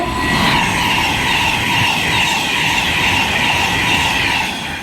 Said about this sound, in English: the next train to pass is going to be a 390 Pendolino from Preston off